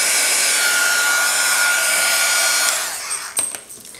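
A heat gun shrink-wraps packaging around a bar of cold process soap with a loud, steady hissing blast of air. It cuts back partway through, leaving a quieter whir with a few soft crinkles and knocks.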